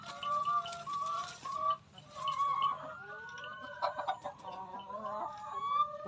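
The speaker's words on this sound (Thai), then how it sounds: "ข้างนี้ก็สิเป็นไก่ ไก่ไข่ค่ะ" Laying hens on a Thai farm clucking and calling in short repeated bursts, fairly close and moderately loud, several birds overlapping with no talk.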